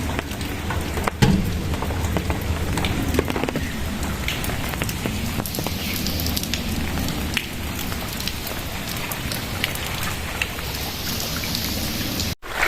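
Heavy rain pours steadily on a rainy day, a dense, close wash of drops hitting surfaces with occasional louder splashes and a low rumble underneath, continuing without pause.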